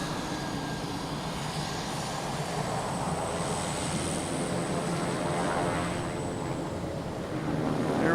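A Boutique Air airplane passes at Boston Logan Airport, its steady engine drone loud and sustained throughout without a break.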